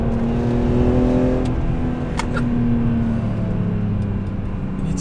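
BMW M3 with a naturally aspirated engine and individual throttle bodies accelerating hard along a B road, a strong rising engine note heard from inside the car, with someone speaking over it briefly.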